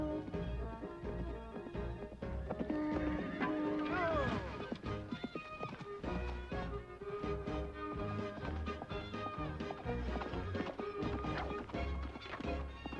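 A horse gallops with rapid hoofbeats and gives a neigh, mixed with shouting voices and background music.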